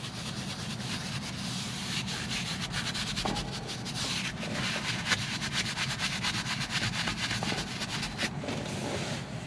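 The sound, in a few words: wiping foamy cleaner off Tesla headliner with microfiber cloth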